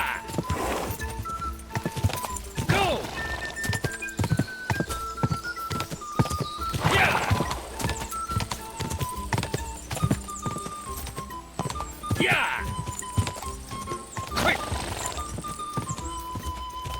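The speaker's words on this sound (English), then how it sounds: "Horse riding ain't my strong suit in this game, man." Horse hooves clip-clop at a gallop in the medieval game Kingdom Come: Deliverance II, steady and fairly close, with several short whinnies and snorts rising over game music and background ambience.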